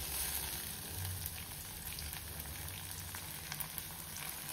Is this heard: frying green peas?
yes